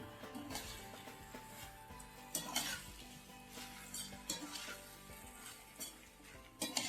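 Cut mushrooms cook in a pan for a quick biryani, with a soft sizzle underneath and several close clinks and scrapes of a spoon stirring.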